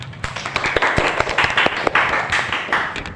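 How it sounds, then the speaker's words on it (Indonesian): Applause from an audience at a school debate for the pro and contra teams, a dense patter of many hands clapping with scattered sharper claps, steady and fairly close for a few seconds. "Boleh kita beri tepuk tangan sekali lagi untuk tim pro dan tim kontra"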